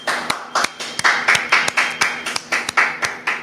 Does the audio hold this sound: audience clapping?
yes